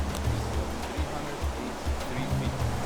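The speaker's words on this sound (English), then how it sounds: "Karuru Waterfall" Karuru Waterfall, a 383-foot cascade, gives a steady, dense roar of rushing water that fills the scene without a break, with heavier low rumbling swells rising and falling throughout.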